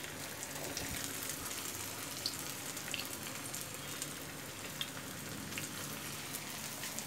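Potato cheese balls frying in hot oil over low heat, a steady close crackling sizzle with dense tiny pops throughout and no talking.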